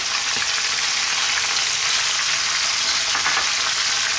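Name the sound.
onion frying with browned lamb in a pan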